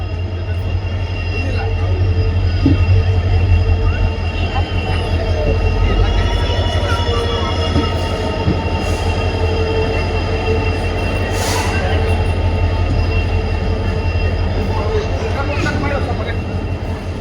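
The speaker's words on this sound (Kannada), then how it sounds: "ಬರೀ 49 ಕಿಲೋಮೀಟರ್ ಕವರ್ ಆದ್ಮೇಲೆ ನಮ್ ಟ್ರೈನ್ ಬಂದೈತ್ರಿ." Passenger train on the Kushtagi to Hubballi line running and pulling into Kukanur station, a loud continuous rumble of wheels on rails with high squeals, steady throughout from on board.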